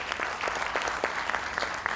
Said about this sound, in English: I may request everyone to welcome this movement with a huge round of applause once again